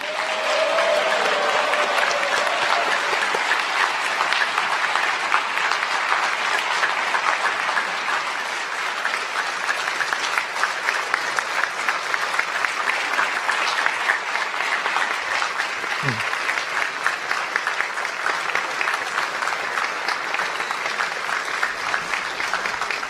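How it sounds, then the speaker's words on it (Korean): Audience applause fills the hall at a presidential inauguration ceremony, a loud, steady wash of many hands clapping continuously for over twenty seconds with no voices on top. "다시 한번 대통령님께 큰 박수 보내주시기 바랍니다."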